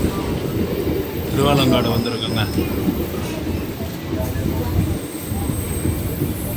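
A MEMU local train rolls along the tracks near Thiruvalangadu on the Chennai–Tirupati line, with a steady rumble of wheels throughout and a brief metallic squeal near the start. Someone speaks over the running noise.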